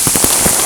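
Water from a mini waterfall at Eas Mor drums onto a raised jacket hood in a close, continuous broadband roar, with several heavier splashing thuds breaking through.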